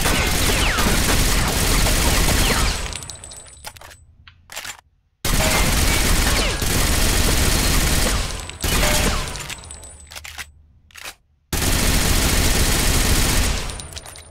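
Magnum-ammo gunfire rips through the online shooter Tom Clancy's Ghost Recon Phantoms, loud and dense in three long sustained volleys separated by short, near-silent gaps.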